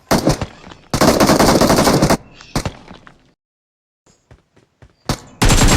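Loud bursts of automatic gunfire in the mobile game PUBG Mobile, long sustained volleys broken by abrupt silences and a few sparse clicks before firing resumes close and loud.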